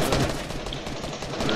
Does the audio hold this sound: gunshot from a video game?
yes